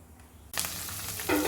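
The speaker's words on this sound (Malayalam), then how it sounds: "നമ്മുടെ ഉലുവ അതാ കടന്ന് പൊട്ടുന്നുണ്ട്" Fenugreek seeds hit hot oil and burst into a close, lively crackling and sizzling that grows louder toward the end.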